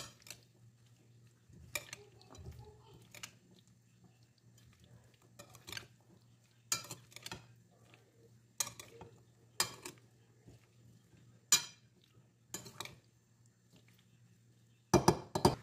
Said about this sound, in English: So I'm going to mix everything together.